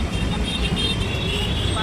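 An auto rickshaw rumbles along with a steady, close engine drone and road noise from inside the cab, while people talk over it.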